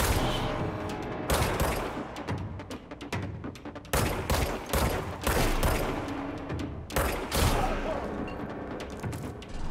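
Gunfire in the video game Control comes as rapid bursts of loud shots mixed with mechanical clicks and clatter.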